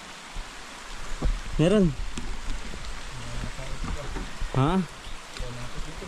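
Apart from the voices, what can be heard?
rain falling while fishing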